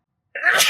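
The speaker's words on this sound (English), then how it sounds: "that was almost a dad sneeze" A single abrupt adult sneeze, loud and close, bursting out of silence inside a camper van on an Alaska road trip.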